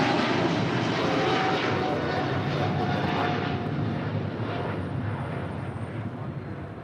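An EVA Air Cargo Boeing 777 freighter departs the runway at LAX with a loud, continuous jet engine roar that stays heavy and broad, fading slightly as it climbs away.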